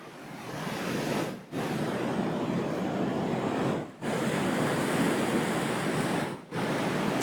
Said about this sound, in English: Some pretty epic waves out there today.